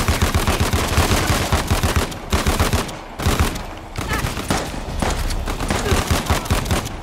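Rapid automatic gunfire in Uncharted: The Lost Legacy, dense sustained bursts with brief pauses, loud and close, punctuated by short gaps between volleys.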